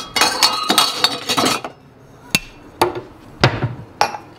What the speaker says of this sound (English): We're gonna need a glass.